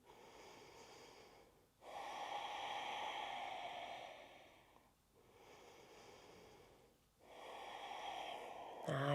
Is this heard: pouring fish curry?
no